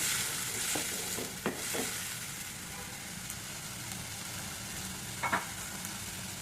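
Onion, garlic and ginger paste fries quietly in a pan, a soft steady sizzle with a few brief clinks and scrapes of stirring.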